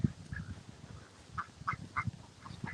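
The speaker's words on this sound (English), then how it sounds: "Coming around to the duck pen. We've still got a few ducks in here." A few farm ducks in a pen give short, scattered quacks at moderate distance, with some brief calls clustered together over a quiet outdoor background.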